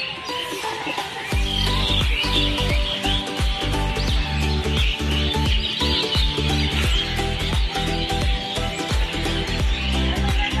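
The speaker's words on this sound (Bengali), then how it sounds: "সব শালিক পাখি আছে এখানে, শালিক পাখির বাসা এই গাছটায়। কিচিরমিচির শুরু করে দিয়েছে" Common mynas chatter and chirp around their nest in a tree at an eco park lake in the evening, a busy overlapping twittering over steady low rumbling background noise.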